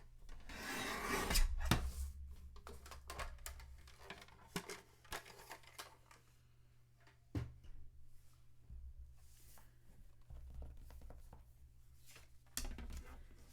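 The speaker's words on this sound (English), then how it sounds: "And I'm gonna trim the first pocket at 4 inches." A paper trimmer blade slides and rasps through card stock as a pocket is cut for a small card gift box, with soft scraping strokes and light taps, quiet and close, no talking.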